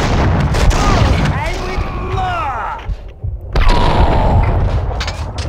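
Heavy booming gunshots in Max Payne 2 fire in a dense burst, echoing, with a loud blast again near the end and a rumbling low background throughout.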